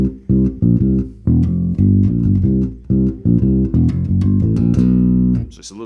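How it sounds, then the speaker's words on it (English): A bass guitar line from a song, with a fast chromatic run leading into the C of the chorus: a loud, close series of quick plucked notes, no voices. "we actually have a fast little run to lead into the C"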